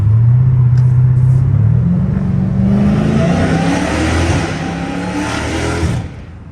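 Dodge Hellcat Redeye with catless exhaust and catback system accelerating hard across a bridge, a loud, close, rising engine roar climbing steadily in pitch for several seconds before cutting off abruptly.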